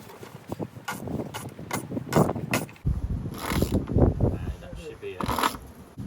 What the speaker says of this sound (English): now we've got to just tighten the top here. Now we put the nut on like this